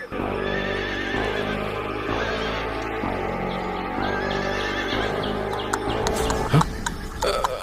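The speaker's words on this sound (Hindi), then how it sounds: "व्यापारी उठकर घोड़े पर सवार होकर चला जाता है" A cartoon horse whinnies loudly and repeatedly as a merchant mounts and rides off, followed by clip-clop hoofbeats, with no talking.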